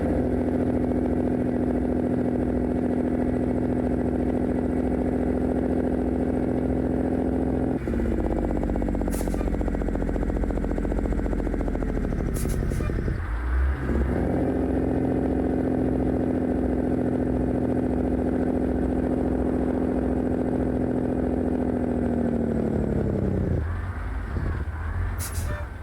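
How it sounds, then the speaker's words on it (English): A Jon Ruda 389 Glider truck in American Truck Simulator runs its engine brake, giving a loud, continuous low diesel drone that shifts pitch several times as the revs drop and climb. "Guess I could use my engine brake."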